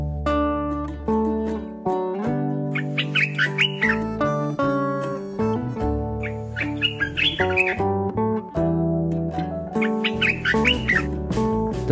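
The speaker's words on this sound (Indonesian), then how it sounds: "Ternyata di sini burung merbah belukar masih banyak dan semoga lestari ya." An olive-winged bulbul sings loud, clear, bubbly phrases repeatedly and close by, its melodic calls rising and falling over a steady musical background.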